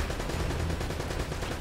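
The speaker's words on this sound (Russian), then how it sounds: "Сейчас отстреляемся." Steady gunfire from Uncharted: The Nathan Drake Collection, a dense, continuous burst of shots filling the whole stretch at even loudness with no pauses.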